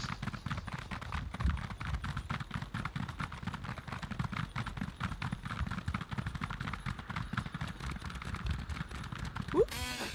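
A mount's hooves clip-clop in a steady, fast galloping rhythm throughout a video game ride, close and continuous, with no speech over it.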